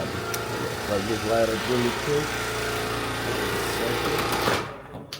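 A loud air compressor runs steadily in a garage and drones throughout, and someone speaks briefly over it before it cuts off near the end.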